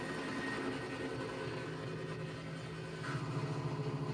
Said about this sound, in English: Glen hears a chopper. But it's too far away to see them